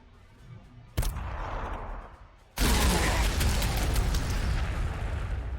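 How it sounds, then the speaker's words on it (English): Frag grenades detonate in Warhammer 40,000: Sanctus Reach, first one sharp blast then a heavier, sustained roaring explosion of dense rumbling debris and gunfire, loud and close. "we can throw some frag back there"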